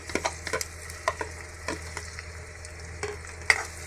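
Onion sautéing in hot oil in a pan, with a soft steady sizzle broken by repeated spatula scrapes and stirring knocks close up.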